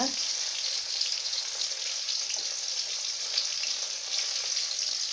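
Masala-coated eggplant sizzles in hot oil, a steady, bright crackling hiss up close that continues throughout.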